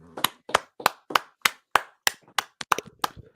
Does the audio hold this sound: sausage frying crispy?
no